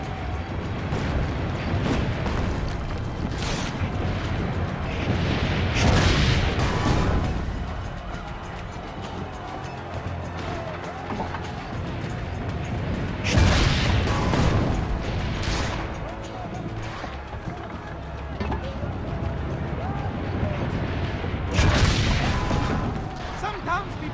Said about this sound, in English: Keep loading the cannon!